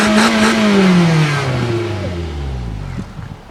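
A twin-turbo car engine revving right at the exhaust, a loud close roar that sweeps down in pitch as the revs fall away, settling into a lower rumble with a few pops near the end.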